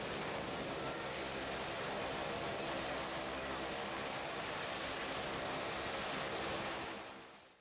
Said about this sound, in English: Taking off from Lukla Airport.